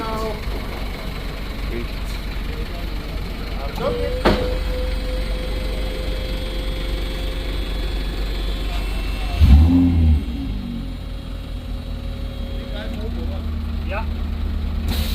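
An Audi R8 race car at an ice race event in Zell am See, its engine droning and rising in a brief rev burst partway through, heard over steady crowd chatter and people talking nearby.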